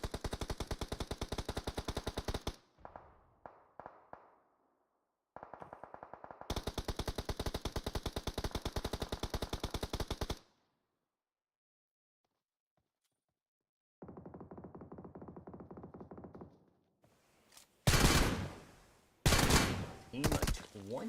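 Automatic rifle fire in the battle-royale game PUBG Mobile, heard during an esports scrim, comes in long rattling bursts separated by silences, ending with a few louder, sharper shots.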